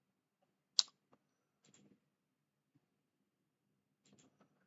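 A sharp, quiet mouse click sounds once, followed by a few fainter ticks and clicks spread across an otherwise near-silent stretch.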